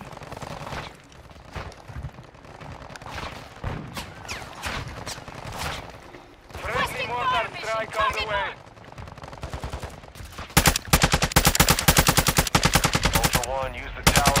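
Heavy gunfire erupts in a Call of Duty MW2 DMZ match. Scattered shots and bursts build into a dense, loud, sustained stretch of rapid automatic fire near the end, with game sounds and effects beneath.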